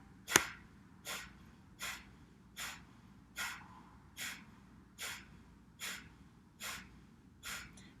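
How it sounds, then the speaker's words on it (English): Yoga pranayama breathing: a series of about ten sharp, forceful exhales through the nose at an even rhythm, close and clear over quiet background. "Breathing in and exhale, exhale."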